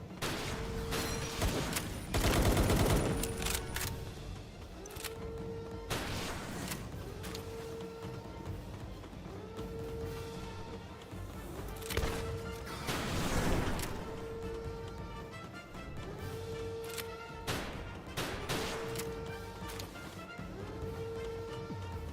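Gunfire and bursts of shots in a shooter video game, with repeated rhythmic tones and louder explosive crashes around the start and middle, sounding busy and layered throughout.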